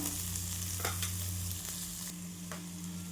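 Garlic, curry leaves and cashews roast in a pan for green chili chutney, giving a continuous close sizzle with a few louder crackling spits and a low steady hum beneath.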